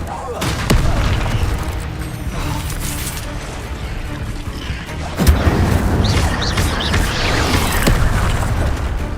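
Incendio fire spell blasts in Hogwarts Legacy go off as deep booming bursts, one early and a heavier one midway, each followed by a roaring, crackling rush of flame and loud game noise.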